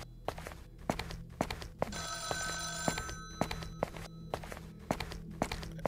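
A telephone rings in the Grimace Shake horror video game, a steady electronic trill over several seconds amid footsteps and dull thumps.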